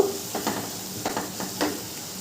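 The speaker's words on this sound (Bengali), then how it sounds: "যতক্ষণ না পর্যন্ত মশলার কাঁচা গন্ধ দূর হচ্ছে, ততক্ষণ পর্যন্ত মশলাটাকে খুব ভালো করে কষিয়ে নেব" Spice paste for bhuna khichuri frying and being stirred in a pot, a close sizzle broken by several short scraping strokes of a spoon against the pot.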